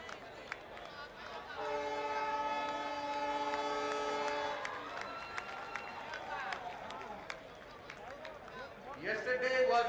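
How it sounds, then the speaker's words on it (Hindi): A new train on a newly opened railway line in Odisha, India sounds a long, loud horn and then rolls off with rumbling movement, as crowd noise and voices carry on around it. "ट्रेन लाइन रे नुआ रेलगाड़ी रेलगाड़ी गड़िबा आरंभ होइछि"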